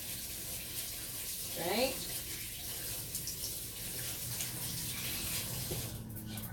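Tap water runs steadily from a kitchen faucet during rinsing, a continuous hiss under brief speech, with a short burst of movement in the middle.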